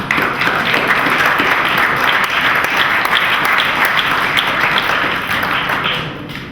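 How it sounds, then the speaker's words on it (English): An audience at a Boys Republic town hall gives a steady, full round of applause for graduating award winners, dense clapping that holds evenly and tapers off near the end. "Yeah, let's give these guys a round of applause."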